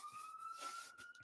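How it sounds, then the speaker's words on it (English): A siren wails outside a room, heard as a steady held tone that is faint and distant, with a short knock at the very end. "Sorry if you can hear a siren outside."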